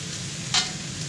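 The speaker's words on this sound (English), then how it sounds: "So, as you can see, I'm stir-frying those together." Vegetables stir-frying in a large pan for pork in plum sauce, a steady close sizzle with one brief louder burst of hissing midway, no talking.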